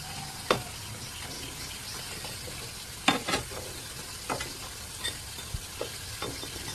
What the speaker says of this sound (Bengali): আমি আবার একটু পাল্টে দিয়ে নিচ সাইডটা একটু ভেজে নিচ্ছি